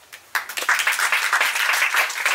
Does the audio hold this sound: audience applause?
yes